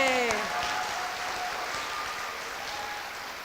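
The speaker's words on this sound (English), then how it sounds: "Let's give her a big round of applause." Audience applause for a school principal at an elementary school dedication and ribbon cutting in Nisswa, a steady wash of many hands clapping, opened by a brief high cheer from one voice and fading only slightly.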